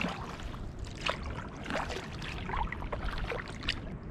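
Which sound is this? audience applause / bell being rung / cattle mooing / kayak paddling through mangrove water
kayak paddling through mangrove water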